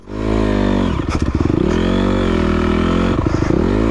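A motocross bike engine races through an enduro course, loud and close, its steady drone broken twice by quick rhythmic throttle blips and clatter as it surges and settles.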